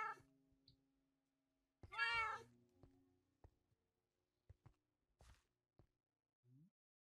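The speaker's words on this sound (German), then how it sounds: "Hey, ist das die Katze, die in der Nähe ist," A Minecraft cat gives one clear, rising-and-falling meow, with soft clicks and footstep-like taps scattered around it in otherwise quiet game audio.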